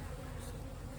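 Honey bees hum at an open hive in the cold, a soft steady buzz from the frames that continues evenly through the brief moment.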